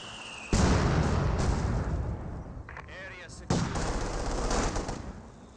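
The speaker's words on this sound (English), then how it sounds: "Has a mortar barrage." Mortar barrage in the World War II strategy game Company of Heroes 2: loud, dense rumbling explosions and battle noise that swell in two heavy waves, with a faint whistling sound between them.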